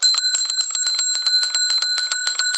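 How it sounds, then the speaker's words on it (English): A tricycle bell is rung in quick repeated strikes, producing a bright, sustained metallic ring with several clear tones that carries on close and loud throughout. "Dorothy, I have a bell on my tricycle, and this is how I ring it"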